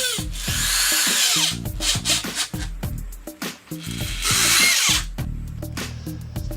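A power drill drives 3/4-inch self-tapping screws into a workshop table, loud whirring bursts that rise and stop abruptly with short gaps between screws, heard up close without talk.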